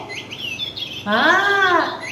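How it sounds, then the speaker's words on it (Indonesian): A pet bird kept in a cage sings close by: a few thin chirps, then a loud, rich warbling call that rises and falls for almost a second before softer tweets resume. "Nih suara burungnya."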